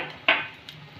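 A spoon scrapes and clinks once through taro coated in coarsely ground pickle spice and amchur in a pan, a single sharp stir-stroke followed by a faint second touch.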